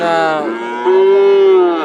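Heifer calves at a Sunday cattle market in Rajshahi moo close by in two back-to-back calls, the second a longer, steady, loud low bellow.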